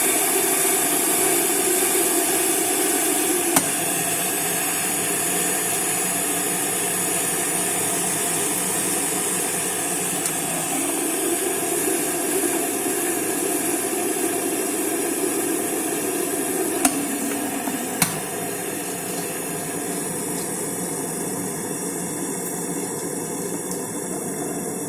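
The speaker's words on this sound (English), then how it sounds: "Well, there's the steam." A boiling Opti Vicky stainless steel kettle gives off a continuous, fairly loud hiss of steam that holds steady throughout, with a couple of faint clicks; no talking.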